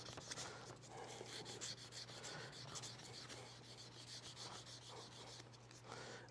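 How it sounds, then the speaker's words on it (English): 800 grit sandpaper rubs across the top of a new guitar saddle for a Gretsch guitar, a soft, steady, close scratching with short repeated strokes and a faint hum beneath. "this is an 800, and this is what I'm actually going to sand the top of the saddle with."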